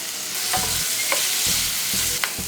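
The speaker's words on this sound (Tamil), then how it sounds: "அந்த ஆயில்ல ஒரு 2 பெரிய வெங்காயம் கட் பண்ணி எடுத்துர்க்கேன். அது நான் சேர்த்துக்கிறேன்." Sliced large onions frying in oil in a pan, a close, steady sizzle with soft stirring scrapes repeating every half second or so, no voices.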